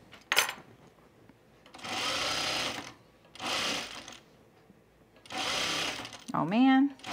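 A sewing machine stitches a pajama bottom seam in three steady runs of a few seconds each, with quiet pauses between them and a person speaking briefly near the end.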